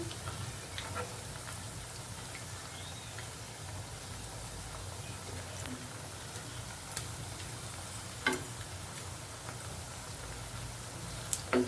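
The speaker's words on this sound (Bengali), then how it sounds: "এইভাবে উল্টে পাল্টে ভালো করে ভেজে নিতে হবে" Chicken pakora fries in oil over a low flame, a faint, continuous crackle with occasional sharper pops and light turning sounds.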